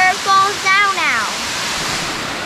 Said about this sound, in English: this is the highest waterfall in Florida